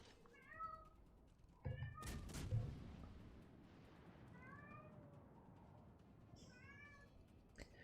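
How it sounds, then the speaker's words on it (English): A cat meows several times in a quiet indoor room, the short rising cries scattered across the stretch, with a couple of sharp knocks near the start and a dog briefly audible. "Can you hear the cat meowing?"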